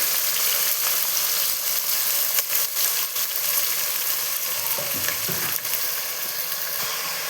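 Onions frying in oil for a fenugreek-leaf rice dish, a close, continuous loud sizzle with faint stirring scrapes running throughout.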